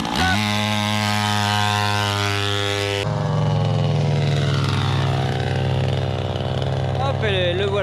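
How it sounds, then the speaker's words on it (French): A 49cc dirt bike engine buzzes steadily at idle, then opens up into a loud, high-pitched, continuously revving whine as the bike takes off on a speed run, staying strong and close throughout. "On démarre la mobilette."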